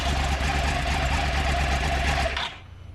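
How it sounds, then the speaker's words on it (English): A 2009 Yamaha R1 motorcycle's cross-plane crankshaft engine with an uneven firing interval idles loudly with a throbbing, uneven rhythm, then cuts off abruptly, leaving a quieter low rumble. "That's the new uneven firing interval cross-plane crankshaft."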